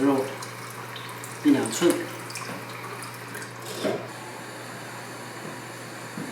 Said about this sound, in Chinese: 然后加水， 加水的量呢，要至少盖过这个牛肉